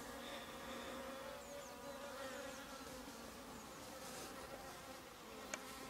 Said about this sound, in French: Bon, il y a un peu d'abeilles,